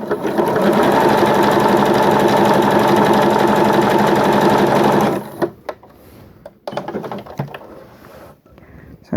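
A sewing machine zigzag stitches an applique corner in a loud, fast, continuous rattle for about five seconds, then stops, leaving scattered handling clicks and rustles.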